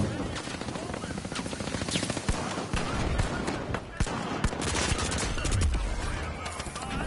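Pistol gunfire in the video game The Finals cracks out in rapid bursts amid a dense, loud game mix, with voices talking over the shooting.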